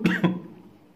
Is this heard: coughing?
yes